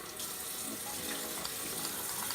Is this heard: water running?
yes